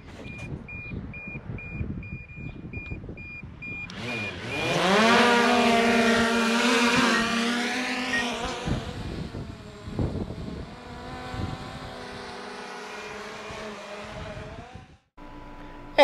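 A camera drone flies over a farm field of soybeans in July, its rising electric whine swelling from about four seconds and holding a steady buzzing tone overhead before fading, with no talking.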